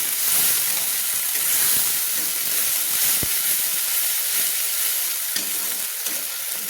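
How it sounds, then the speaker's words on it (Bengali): Tomato paste frying and being stirred in a pan for a fish-head curry, with a steady close hiss and sizzle. A few sharp scrapes of the spatula break through it, and no one speaks. "দিয়ে ভালো করে একটু নেড়ে নিচ্ছি, কষিয়ে নিচ্ছি, যাতে টমেটোর কাঁচা গন্ধটা কিন্তু চলে যায়।"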